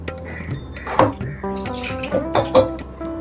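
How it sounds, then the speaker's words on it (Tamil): Water poured in a kitchen to rinse ingredients while making pirandai herbal rasam, a close splashing and trickling with ringing clinks of a vessel, fairly loud and unbroken by speech. "இத கொஞ்சமா தண்ணி ஊத்தி வாஷ் பண்ணி இதோட சேர்த்துக்கலாம்."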